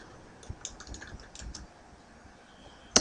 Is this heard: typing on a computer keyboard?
yes